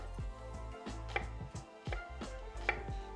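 A knife cuts half an onion into thin julienne strips on a cutting board, a steady series of close, crisp chops roughly three per second, with no talking.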